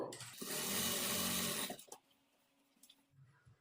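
A sewing machine runs a loud, steady burst of stitching along a blouse side seam for about a second and a half, then stops, leaving faint handling clicks and a quiet room.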